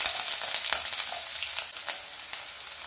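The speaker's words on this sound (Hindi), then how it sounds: "तेल गर्म हो गया है, अब इसमें डालेंगे आधा चम्मच जीरा, 7-8 लहसुन की कलियां बारीक कटी हुई" Half a spoon of cumin seeds and seven or eight finely chopped garlic cloves sizzle in hot oil, a steady close crackling hiss with scattered sharper pops and no voices.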